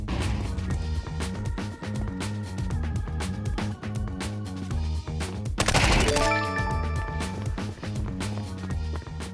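Suppressed MP5 submachine gun fire in Counter-Strike 2, a steady run of rapid, muffled shots from up close over a dense game soundscape, swelling into a louder burst near the middle.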